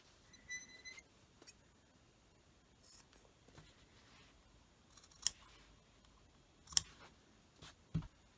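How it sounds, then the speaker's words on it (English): Scissors snipping the fabric corners of a small doll dress, a few quiet, sharp isolated cuts and clicks spaced apart in a very quiet room. "Trim off the corners."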